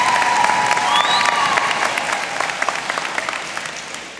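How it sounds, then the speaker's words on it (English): Graduating high school class and audience at a 2023 Indianapolis graduation break into loud, sustained clapping with a few whistles and cheers mixed in, steady throughout and tapering slightly at the end. "We all deserve a round of applause for being able to make it to this moment right here"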